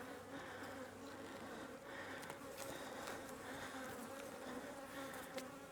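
Honeybees from a hive colony, being combined with a comb frame heavy with bee bread and honey, hum in a dense, steady drone that carries close and loud throughout, with no talk over it.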